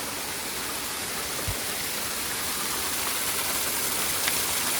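Steady, dense rushing of falling water at Nang Khuan Waterfall fills the air, an even roar with no voices.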